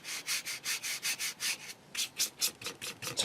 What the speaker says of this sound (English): We're actually going to dry brush this now over a gloss varnish.